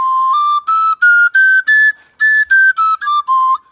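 A clear, bright Igbo oja flute plays a sequence of short separate notes rising in pitch, then falling back down, close and loud.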